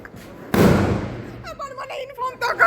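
A loud Diwali firecracker bursts close by with a sharp boom, then decays into a long rumbling tail while people talk over it.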